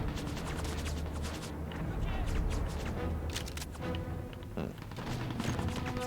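Rapid rifle gunfire from an AK in the Mercenaries: Playground of Destruction video game, bursts of shots rattling over a dense, continuous background of game explosions and noise.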